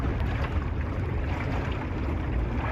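A sailboat moving under an ePropulsion electric outboard motor during a sailing raid, giving a steady close rumble of motor and water with wind buffeting the microphone throughout and no voices.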